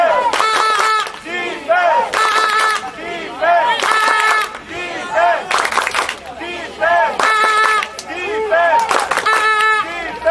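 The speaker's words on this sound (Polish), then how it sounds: "głośny, głośny doping dla ekipy Wilków Łódzkich" A crowd at an American football game between Wilki Łódzkie and Angels Toruń chants and cheers loudly for Wilki Łódzkie in rhythmic bursts, with claps and shouts, under an announcer's voice.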